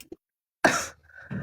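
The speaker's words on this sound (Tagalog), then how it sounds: "Hindi ka pa okay. Inuubo ka pa nga, eh." A single sharp cough bursts out close and loud after a brief near-silence, with a short hum following it.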